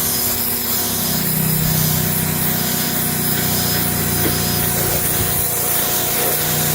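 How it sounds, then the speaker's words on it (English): An electric pressure washer running steadily while blasting dirt out of a car's carpet, a continuous loud hiss and motor drone with a low hum, close and unbroken throughout, no talking. "This electric pressure washer uses like a gallon a minute."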